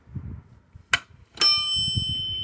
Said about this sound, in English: it rings a bell. I think it's supposed to ring a bell and differentiate between nickels, dimes